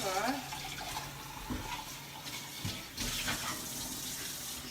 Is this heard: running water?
yes